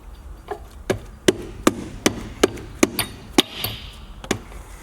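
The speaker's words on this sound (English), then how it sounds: "And now use a rubber hammer, or if you don't have, just use a regular hammer, but don't bend it hard" A rubber hammer taps a BMW E60 differential flange into place with about a dozen sharp, evenly spaced knocks, close and alone.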